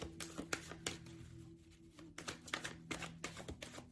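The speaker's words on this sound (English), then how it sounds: "These cards are so hard to shuffle." Tarot cards riffle and snap in a quick series of short crackling bursts, close and fairly quiet, pausing briefly midway before continuing.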